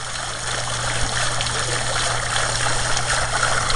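Water driven by a basement sump pump flows up through a pipe, a steady close rushing trickle over a constant low mechanical hum with no voices.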